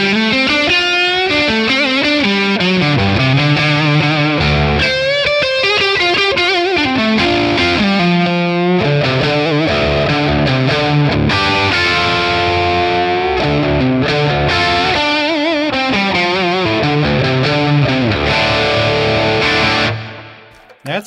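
Crunchy overdriven electric guitar through a Friedman Plex amp model with added reverb, strummed chords and ringing notes played continuously for about twenty seconds before cutting off, with no talking.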